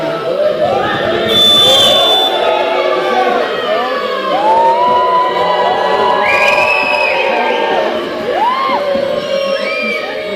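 A basketball crowd at a men's NM2 game between Venelles and SMUC roars steadily for number 22, with whoops, shrill shouts and rising and falling cheers layered over the loud, continuous din of the arena.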